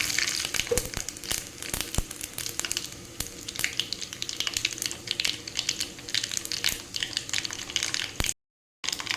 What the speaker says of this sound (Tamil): இப்போ கடுகு வெடிச்சிருச்சு